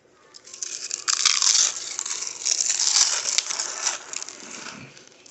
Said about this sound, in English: Get some out for the close-up on that Big Boy Bite for that flavor and crunch.